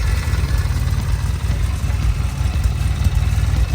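Low, steady rumble of a 1974 Norton Commando 850 motorcycle idling, a throbbing burble from its small pea-shooter exhaust close by with no one speaking.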